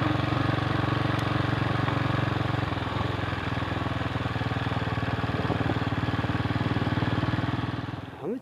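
A TC 200 motorcycle engine runs steadily at a rumbling idle on sandy roads, close and loud throughout, the pulsing drone easing briefly near the end.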